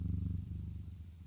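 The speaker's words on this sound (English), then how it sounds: "Look at how loudly he purrs." A cat in the game Strange Antiquities purrs loudly and up close, a steady low rumbling pulse that carries on without pause and with no talking over it.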